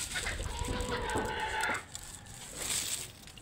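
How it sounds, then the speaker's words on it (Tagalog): Chickens cluck close by at a rural hut where coconut wine is being made, with a rooster's crow rising through the clucking for a couple of seconds before fading into outdoor ambience. "Maraming manok dito, guys."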